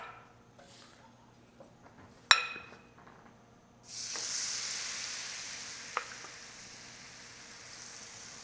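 Shrimp tortillitas dropped into hot, smoking oil, a sharp clink and then a loud, bright hiss that swells and settles into a steady sizzle, alone with no voices.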